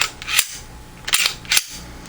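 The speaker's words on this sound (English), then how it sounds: "we're going to rack the slide back" The slide of a Glock G23 pistol chambered in .40 caliber and converted to .357 SIG is racked, giving three sharp metallic clacks, close and crisp, over a faint background hiss, no talk.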